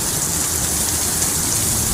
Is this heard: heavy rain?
yes